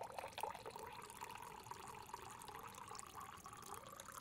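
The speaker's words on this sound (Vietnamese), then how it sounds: "Anh Hải, tôi tự rót được rồi." Tea pours steadily into a cup in a quiet room, a soft continuous trickle of liquid filling the vessel for a few seconds without any speech over it.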